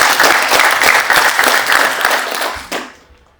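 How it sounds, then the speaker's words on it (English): An audience gives a lively round of applause at a health and lifestyle talk, dense clapping that holds steady for nearly three seconds, then thins with a few final claps and dies away. "Can we give him a round of applause?"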